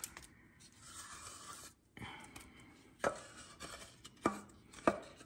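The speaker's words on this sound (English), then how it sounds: "I will scrape all of that out that I can get out of there" A tool scrapes material out of a container in a quiet room, giving a series of scratchy strokes that turn into sharper, louder scrapes at about three, four and five seconds near the end.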